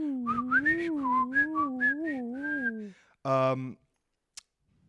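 A Melody Pop candy whistle is blown in a short wavering tune of several rising and falling notes, followed by one brief buzzy blast and a faint click, close and fairly quiet.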